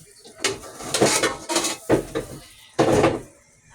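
A wok clanks down onto a home stove as fried rice is started, several loud metallic knocks and scrapes spaced across a few seconds, close by with no talk.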